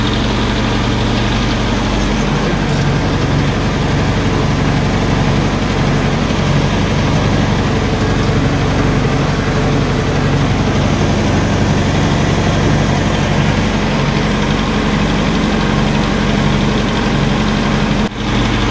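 A DT-75 tractor's diesel engine idles after a cold start at minus 20 degrees, a loud, steady, rumbling drone that continues unbroken for the whole stretch with no talk.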